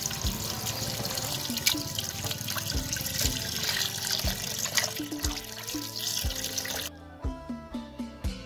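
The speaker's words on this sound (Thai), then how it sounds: "เขาก็เติมน้ำให้ท่วมเลยค่ะ" Water runs steadily into a bucket to cover sliced wild yam, a continuous gushing pour that stops near the end and leaves a few drips and splashes. The sound is close and quiet, with no speech.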